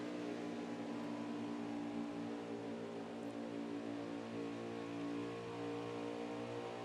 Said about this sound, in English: Listen to how smooth that throttle control is.